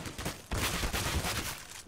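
Rapid bursts of gunfire in a Counter-Strike: Global Offensive match, loud and dense across nearly two seconds, with a brief gap before a second sustained volley.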